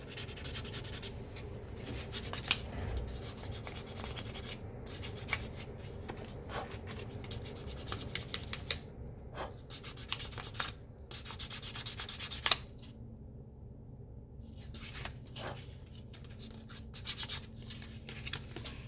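Leather surface being smoothed flat by hand during bag-making leathercraft, a quiet continuous rubbing and scraping with short strokes and small taps, close and soft.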